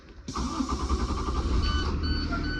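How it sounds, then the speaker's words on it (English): A large diesel engine of an International bus cranks and catches, settling into a loud, steady idle with a low rumble, while a high electronic beep tone sounds intermittently near the end. "So let me start the bus safely."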